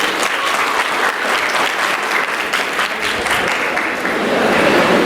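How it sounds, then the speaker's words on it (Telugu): Dense, sustained applause from a large audience at a junior college freshers party, loud and even throughout and swelling slightly toward the end, with no speech over it. "ఆయన కూడా గట్టిగా చప్పట్లు కొట్టండి."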